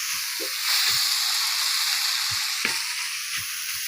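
Dried fish and beans stir-frying in a pan, a steady loud sizzle throughout with a few soft spatula scrapes and knocks at intervals.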